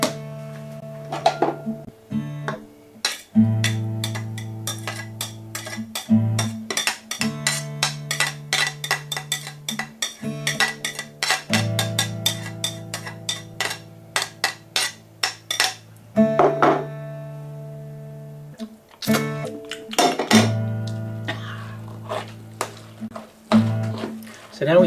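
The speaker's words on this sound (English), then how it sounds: "So now we start mashing in earnest." Chickpeas mashed with garlic, lemon juice and oil for hummus, a repeated metallic knocking and clinking of a utensil against a bowl, irregular strikes that come in bursts with brief pauses, near and clear, with no talking over it.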